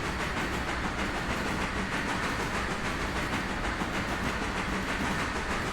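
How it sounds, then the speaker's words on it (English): Locomotive rolling on rails in the Railroader video game gives a steady, loud, unbroken rumble with a faint rhythmic clatter and hiss throughout, with no voices. "I'm going to turn this locomotive."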